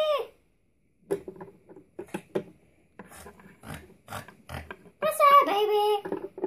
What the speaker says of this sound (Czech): Prase, baby!